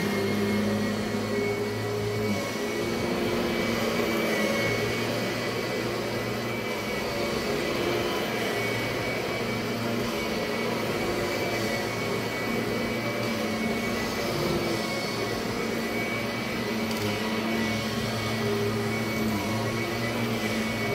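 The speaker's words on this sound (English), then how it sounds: "We got to end with a nice, good vacuum." A Kirby vacuum cleaner runs steadily and loudly up close, a continuous motor whine with a low hum that holds unchanged for the whole stretch, with no talking.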